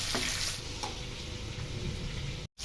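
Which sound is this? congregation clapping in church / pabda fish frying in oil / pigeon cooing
pabda fish frying in oil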